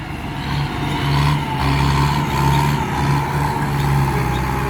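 A Kubota M85 farm tractor's diesel engine runs loud and close under steady load, a low rumbling drone that swells and eases in slow waves throughout, with no voices over it.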